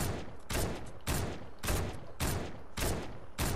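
Sniper rifle gunfire in a video game, a series of six loud, sharp shots spaced roughly half a second apart, each with a short decaying tail, with no talking over them.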